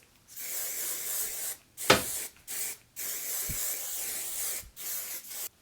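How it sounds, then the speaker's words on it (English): Luminous hairspray misted onto curled hair in several long hissing bursts separated by short pauses, close and steady, with no talking. "Luminous hairspray."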